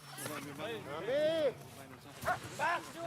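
Greenland sled dogs bark and yelp in a few rising, howl-like bursts, fairly close and loud, with short pauses between calls.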